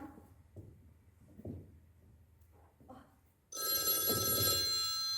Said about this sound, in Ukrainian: О, телефонує хтось.